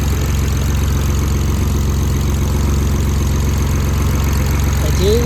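A 2008 BMW 335i with a bad injector runs at a rough idle, a steady low engine drone with an uneven, lumpy pulse, close up and continuous with no voices.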